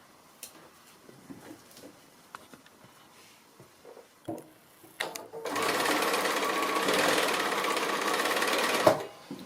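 A sewing machine stitches a foundation-pieced quilt block with a slightly smaller stitch, regular needle and regular thread. Soft handling rustles come first, then a loud, steady, close run of rapid stitching lasts about four seconds before stopping.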